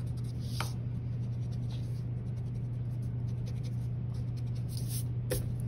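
A pencil eraser rubs out drawn circles on paper, a soft continuous scrubbing close by over a steady low hum, with a couple of faint taps.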